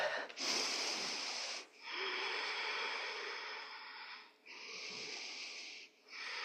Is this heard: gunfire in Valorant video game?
no